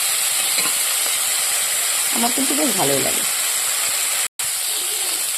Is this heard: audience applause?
no